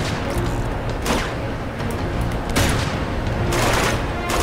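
Grenade blast and gunfire in Uncharted 2, a dense loud battle din with booming bursts and rattling shots layered over a continuous roar, peaking around the middle and near the end.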